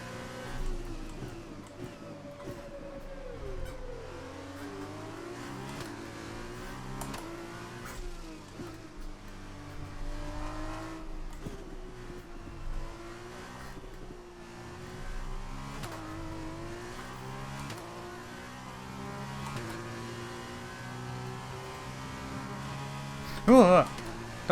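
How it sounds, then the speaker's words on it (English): F2 race cars in the racing game F1 2021 at the Azerbaijan GP feature race, with shifting, whining engine tones rising and falling as the cars flash past, under the player's occasional talk and a steady hum. "F2 cars at least sound good when they're going flying past."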